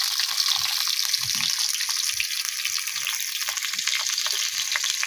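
Egg, potato and onion sizzle in hot oil with a dense, steady hiss, close up, broken by a few soft low knocks as the pieces settle in the pan.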